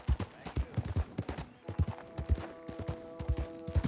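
Rapid, rhythmic hoofbeats of a horse galloping in Red Dead Redemption 2, steady thudding strides at moderate distance with a faint sustained musical tone underneath and no talking.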